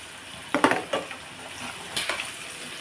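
Brinjal pieces fry in a pan while a utensil stirs them, with a low sizzle under a few scraping clatters clustered in two short bursts.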